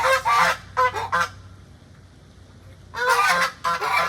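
Geese honk loudly in two bursts of repeated calls, separated by a quieter pause of about a second and a half.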